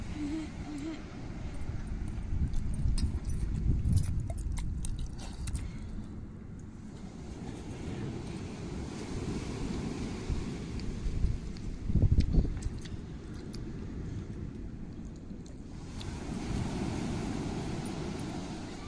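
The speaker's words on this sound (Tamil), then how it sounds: "கடற்கரை ஓரத்தில் சில்லு சில்லுண்டு காற்று" Steady broadband wind rush and surf wash along a seashore, loud and continuous with gusty swells that fade near the middle and build again, a brief louder burst partway through.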